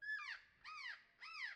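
Synthesized bird call from an electronic music software instrument: three clean, descending chirping whistles with bright harmonics, evenly spaced, alone and fairly soft.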